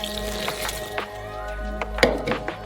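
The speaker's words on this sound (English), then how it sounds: "we pour in the liquid" Liquid poured into a bowl of flour for noodle dough, a soft continuous trickle and splash with faint clinks, close and alone without talk.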